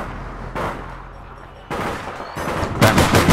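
Gunfire in the video game APB Reloaded, several bursts of shots arriving in clusters over a low background, growing louder and denser toward the end.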